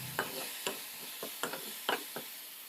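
A spoon stirring a pasta masala mixture in a pan, several distinct scraping strokes at an uneven pace over a faint background sizzle, close and fairly quiet.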